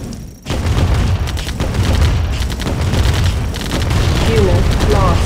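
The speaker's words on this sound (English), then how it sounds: "Ion cannon charging." A video game battle with an ion cannon firing: loud, dense bursts of booming weapon fire and rapid shots crowd together continuously after a brief quiet start, with faint chirping tones near the end.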